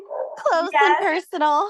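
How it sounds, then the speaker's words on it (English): A dog barks in the background behind close, continuous conversational speech, a few short yips and barks mixed under the talking. "you might hear my dog barking in the back"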